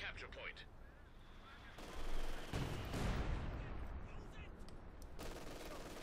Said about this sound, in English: Machine gun there dealing with the Panzergrenadier.